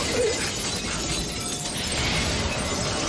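Glass shattering in a Stargate SG-1 episode, a sustained crackling and tinkling of breaking glass over a few seconds at moderate level, no speech.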